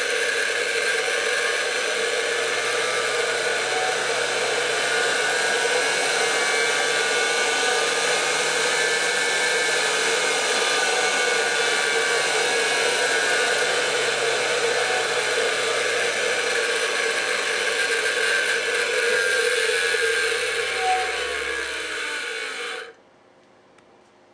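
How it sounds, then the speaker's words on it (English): A small electric motor driven by a GertBoard controller on a Raspberry Pi whirs steadily and loudly for over twenty seconds with a constant high-pitched hum, then winds down and stops abruptly near the end. "I'm just hitting enter to start the motor now"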